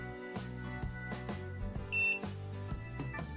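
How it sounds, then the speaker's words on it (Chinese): A PC motherboard buzzer gives a single short electronic beep as the machine begins to reboot, clear above steady background music with no talking. "我们已经听到蜂鸣器滴响了一声，重启开始。"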